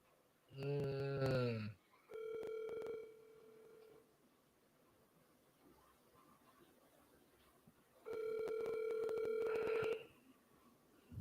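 A telephone rings during a call, heard as two separated bursts of warbling electronic tone on a quiet line, each lasting around two seconds, with a short tonal blip between them.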